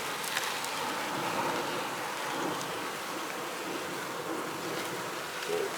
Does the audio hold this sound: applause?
no